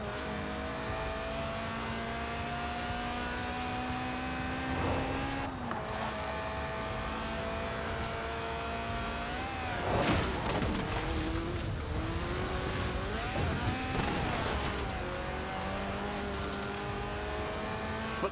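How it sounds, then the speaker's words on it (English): A Lotus Elise Sport 190, a tuned mid-engine roadster in Forza Horizon 4, revs steadily with its engine note climbing and dropping through shifts, punctuated by brief tire squeal and passing bursts. "Right then, the Lotus Elise, a 90s classic based on the age-old roadster recipe."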